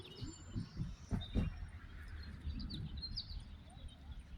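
Faint, high chirps from small birds, a few short calls scattered across the clip over a low, steady rumble of background noise.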